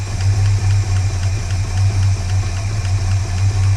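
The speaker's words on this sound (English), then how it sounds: "There's definitely a tick in there," Holden HK engine idling with a lifter tick and no oil reaching the top end, a loud, steady low rumble overlaid by a fast, regular metallic ticking, close up with no talking.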